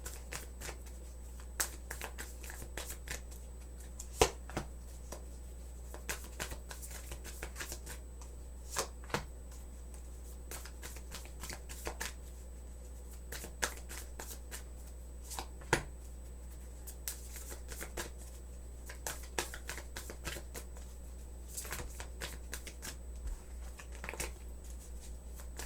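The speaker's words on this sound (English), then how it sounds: "I'm throwing cards all over the place" Tarot cards are shuffled and slapped in a quiet room, with many short crisp riffles and taps at irregular intervals over a low steady hum, no voices.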